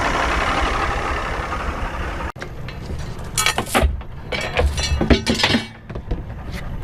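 A two-stroke boat engine, just repaired, idles with a steady rough rumble, broken by a sharp click and then uneven sputtering bursts and metallic clinks.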